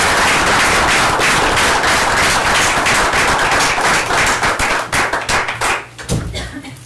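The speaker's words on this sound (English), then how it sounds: "everyone give Frankie a big round of applause" A room of attendees at a town council meeting breaks into loud, dense clapping for a public works employee retiring after 35 years. The applause stays sustained and close for several seconds, then thins out and fades near the end.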